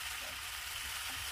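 Agase flowers and leaves being stirred in a frying pan on a farmhouse kitchen stove, a soft, steady sizzle with faint scraping of the stir, quiet and close, with no talking.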